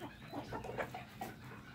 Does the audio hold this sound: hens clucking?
yes